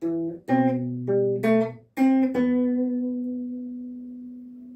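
Guitar plays the intro to a song, a few plucked notes and chords in a halting rhythm, ending on a ringing note that slowly fades, with no talking.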